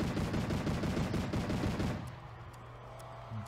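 Automated turret firing in the Fortnite video game, a rapid sustained burst of gunfire for about two seconds that then cuts off, leaving a low hum and a few faint clicks.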